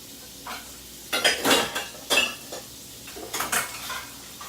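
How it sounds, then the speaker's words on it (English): Shrimp and garlic cook in a pan while a metal utensil stirs them, giving several loud, uneven clanks and scrapes. Faint sizzling sits underneath, and no one speaks. "saute them a little bit longer with the garlic"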